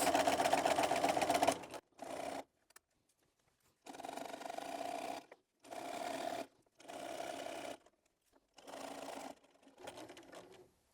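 Sewing machine stitching fabric for an apron along a curve, loud motor whirring in bursts of one to two seconds separated by short silences as the fabric is stopped and turned, close and alone.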